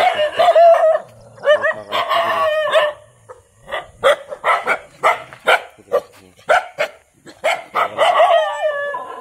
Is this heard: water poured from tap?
no